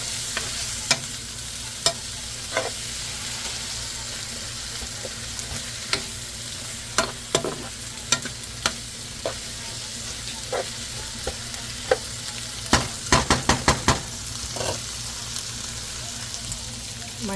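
Onions, tomatoes and tofu fry in a pan with a steady broadband sizzle, broken by sharp clicks and scrapes of a utensil stirring, including a quick cluster of taps near the end; no one speaks.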